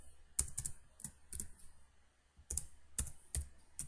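Someone types C code on a computer keyboard in short bursts of crisp, close key clicks separated by brief pauses, with nobody speaking.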